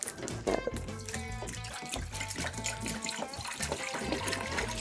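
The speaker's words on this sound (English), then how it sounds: "I'm going to put a whole gallon of water in there" A gallon of hot water pours steadily into a pot, a continuous splashing trickle at close range with no talking.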